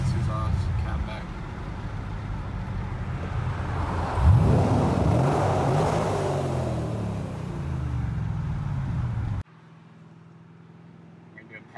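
A Chevrolet Camaro SS engine drones steadily while driving, its mixed exhaust swelling into a louder roar midway, then cutting off abruptly to quiet near the end.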